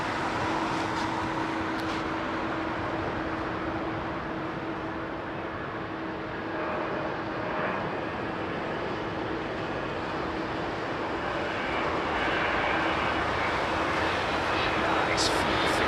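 Airplane at a snowy, wintry London Heathrow Airport, a steady broad engine roar that stays loud and constant throughout, with a low hum underneath and voices faintly in the background.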